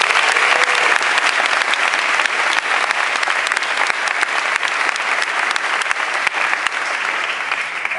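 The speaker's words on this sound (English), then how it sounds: "let's give them a round of applause" An indoor audience at a Columbia University event applauds New York City Council members. Dense, steady clapping stays close and loud throughout without letting up.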